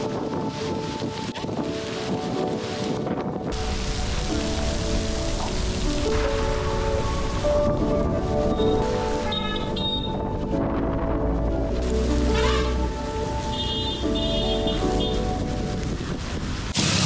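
Monsoon rain falls at Malshej Ghat in a loud, dense, steady rush, mixed with gusty wind buffeting the microphone throughout and no talking.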